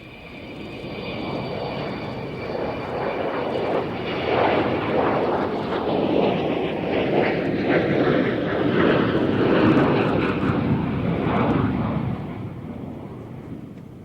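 An Avro Vulcan jet aircraft flies past, heard as a broad, roaring rumble that swells to a loud peak midway and then slowly fades. Nobody speaks over it.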